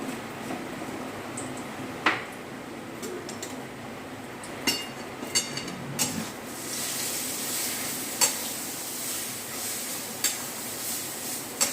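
Ground spices including turmeric, chilli, cumin and coriander powder being stirred in a frying pan, a soft continuous sizzle with scattered utensil clinks and scrapes against the pan, no voices.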